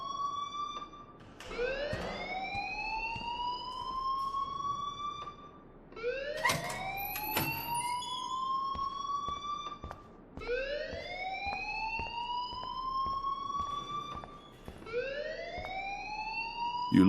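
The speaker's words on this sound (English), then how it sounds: "please turn off that alarm since that's your job" An alarm in a school in Life is Strange wails in repeated rising siren sweeps, four long cycles at a steady rhythm, loud and continuous with no talking.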